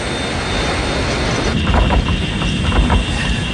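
Airliner's number 3 engine disintegrating in flight after an explosion: a steady loud roar of engine and airflow, with a rough rattling, grinding surge setting in partway through and pulsing unevenly to the end.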